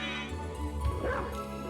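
A dog in Castlevania: Symphony of the Night lets out a single bark-like yip midway, mixed under a steady hum of game music and effects.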